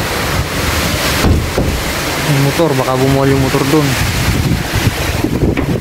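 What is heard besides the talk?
strong typhoon wind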